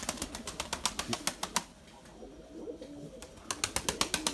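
Pigeons at feeding time clatter with rapid rhythmic wingbeats, pause briefly for soft cooing, then burst into flapping again, close and fairly loud.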